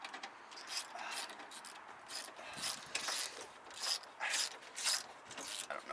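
Bolts being tightened on a car bumper, a faint close ratcheting and scraping of a hand tool in short uneven strokes, low level with no talk.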